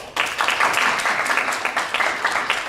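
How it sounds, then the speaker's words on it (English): Audience applause welcoming guests at a student council presidential debate on a Vietnamese university campus, starting abruptly and continuing as close, lively clapping with a quick rhythmic patter. "Please also give the next round of applause to welcome our distinguished guests from Hanoi campus, Mr. Philip Dollar"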